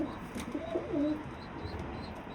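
A pigeon coos softly nearby in a loft, a short low warbling call over faint background noise with a brief chirp.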